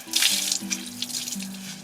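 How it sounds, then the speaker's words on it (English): Luffa gourd sponges being rinsed in a clean bucket of water: close, gentle sloshing and splashing with small drips, steady and fairly quiet, with a faint low hum underneath. "I'll give them one final rinse in a clean bucket"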